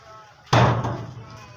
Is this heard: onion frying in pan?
no